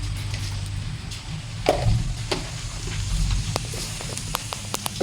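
Whole cumin seeds hit hot mustard oil in a pan and give a quiet, close sizzle with scattered sharp crackles and pops that continue through the clip.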